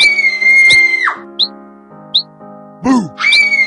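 A high, drawn-out cartoonish scream for Red Riding Hood in a bedtime story, followed by short whistle-like chirps and a falling squeal, loud and close with no speech over it.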